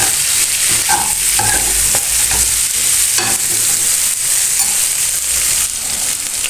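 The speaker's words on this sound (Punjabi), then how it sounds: "ਇਹ ਚੰਗੀ ਤਰ੍ਹਾਂ ਹਲਾਵਾਂਗੇ 1 ਦੋ ਮਿੰਟ ਹੋਰ ਪਿੱਛਾਂਗੇ" A carrot and radish pickle is stirred in a hot pan, with a steady sizzle of frying underneath and several distinct scraping strokes of the spoon. The sound is loud and close, and no one speaks.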